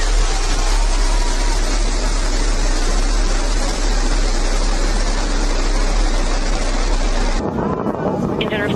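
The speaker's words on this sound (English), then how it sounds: "Liftoff. New Shepard has cleared the tower." Blue Origin New Shepard rocket engines roar at liftoff, a loud, steady broadband rumble with wind-like buffeting that holds for about seven seconds before cutting sharply to a quieter, thinner background.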